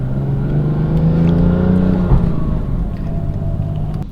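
A BMW F80 M3 engine drones steadily on a mountain drive, its tone rising and falling as it revs, with low rumbling from the exhaust that stays continuous throughout and close to the listener.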